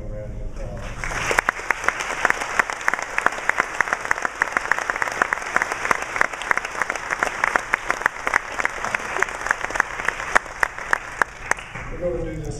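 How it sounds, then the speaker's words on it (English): Audience at a Columbia College honors and awards ceremony breaks into loud, dense applause that holds steady for about ten seconds before tapering off at the end. "I'd like to give them a round of applause"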